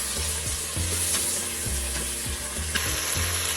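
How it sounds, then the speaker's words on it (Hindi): Ginger and garlic fry in a pan with a loud, steady sizzle and occasional scraping stir strokes throughout. "अदरक लहसुन फ्राई हो गया है।"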